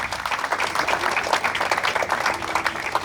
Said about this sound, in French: Il mérite nos applaudissements.